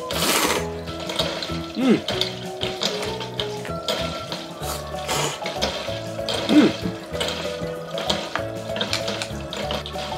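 Motor hum and steadily running water from a flowing noodle machine serving cold hiyamugi at a home table, a constant moderate whirring under trickling water, with occasional brief murmured sounds from a person.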